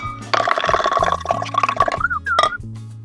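Sugar being stirred into homemade lemonade (nimbu pani) with a muddler, giving a steady run of close liquid sloshing, clinking and dripping noises with a few brief plops over about three seconds.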